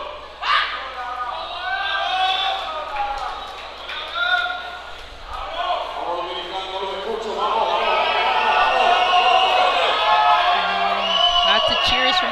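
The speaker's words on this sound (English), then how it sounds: "Lots of cheers from the crowd for her" A crowd at a powerlifting regional championship cheers and whoops for a lifter as she sets up, swelling and building louder toward the end, with a commentator talking throughout.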